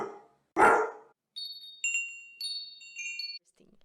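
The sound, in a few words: dog barking far away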